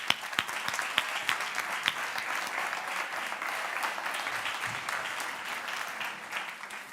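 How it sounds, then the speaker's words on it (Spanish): An audience applauds steadily for about seven seconds to welcome a speaker at an education and entrepreneurship talk, the dense clapping even and sustained throughout. "Por favor, un fuerte aplauso para César Bona."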